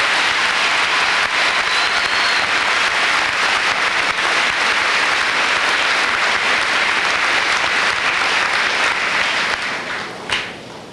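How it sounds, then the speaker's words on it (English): An audience applauds graduates at a high school commencement ceremony, dense, sustained clapping filling a large hall at steady strength, then thinning and fading toward the end. "Please give all these young people a hand."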